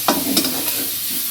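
Chopped medium tomato frying in a pan of oil for a pumpkin mustard-poppy-seed dish, a brief burst of sizzle and stirring at the start that settles into a steady low hiss.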